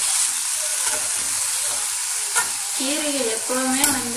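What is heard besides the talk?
ponnanganni greens being sautéed in a pan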